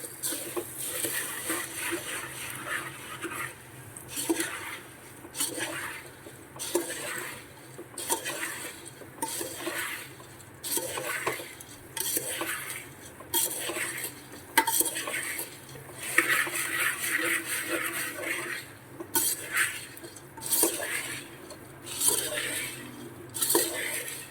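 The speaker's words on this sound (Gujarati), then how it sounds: "હવે સારી રીતે મિક્સ કરી લેશું." A spoon stirs puffed rice mixed with chili powder in a metal pot, giving repeated scraping clinks and rustles in a quick, irregular rhythm, close and fairly quiet with no talking.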